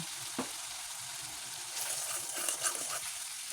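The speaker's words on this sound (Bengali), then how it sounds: "মশলা কষানো হয়ে গিয়েছে, মাছ দিয়ে দিলাম।" Fish dropped into spice paste frying in a pan, giving a steady close sizzle with a brief burst of louder crackling partway through.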